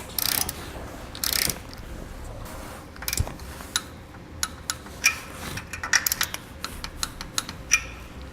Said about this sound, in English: Now we'll torque our hardware to the amount specified in the instructions evenly.